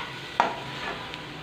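Dry ground spices are stirred into hot oil in a pan, giving a soft, even sizzle close by, with one sharp spoon knock near the start and a lighter tap later.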